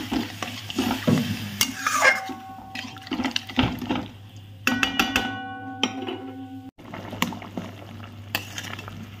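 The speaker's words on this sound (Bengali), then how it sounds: "দেখো, আলুর থেকে মশলার থেকে তেলটা ছেড়ে দিয়েছে, এবার আমি জলটা দিয়ে দিই।" Water poured into a pan of frying potatoes and spice masala, a loud splashing hiss with sizzling and stirring scrapes that fade and return in bursts, close up with no talking.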